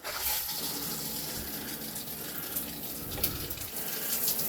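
A filtered shower head sprays hot water at full force in a steady, hissing rush, continuous and close, with no voices.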